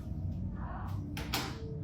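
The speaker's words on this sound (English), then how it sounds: "This thing's always closing doors." Door closing on its own in a reportedly haunted house, a faint brief swish and soft knock near the end against a low background hum.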